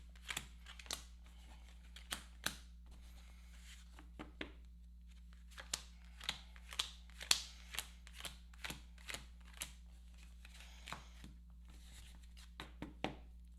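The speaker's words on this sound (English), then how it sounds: "shuffle these Automa cards" Automa cards for a Wingspan board game being shuffled by hand, a long run of crisp riffling snaps and flutters close up, quiet and steady with no talk.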